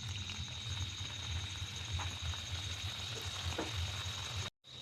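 Khasta pastries frying slowly in warm, not overly hot, white oil in a wok, giving a steady close sizzle and bubbling that runs unbroken until a brief dropout near the end.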